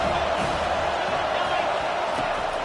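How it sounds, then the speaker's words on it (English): A football stadium crowd at a college game between Ole Miss and Georgia Southern keeps up a dense, steady roar of cheering and noise, unbroken across the whole moment. "This crowd bringing the energy and noise early."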